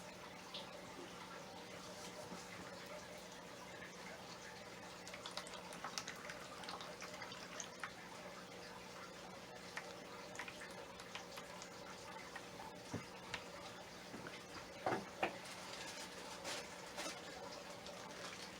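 Soft continuous trickle of water pouring into the soil of a potted plant, faint and steady with occasional small splashes and drips, no talking.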